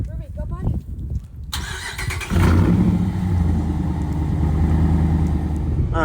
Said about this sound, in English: I'm gonna get a drive on the way home so y'all can hear how it sounds inside the truck